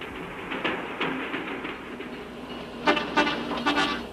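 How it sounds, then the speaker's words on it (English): A train descending through the Andes mountains at Pampa de Arrieros rumbles past with a steady rolling noise, then a series of sharp rhythmic clacks and metallic squeals toward the end. "the caravan pauses to let the descending train pass"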